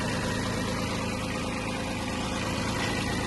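A Kubota A-175 Japanese mini tractor's small diesel engine idles steadily nearby, a constant low chugging rumble with no voices.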